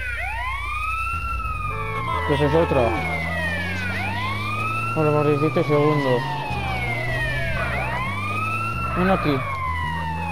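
Wailing ambulance siren in the video game GTA San Andreas, rising and falling in long sweeping cycles throughout, loud and steady, with someone talking over it and engine rumble underneath.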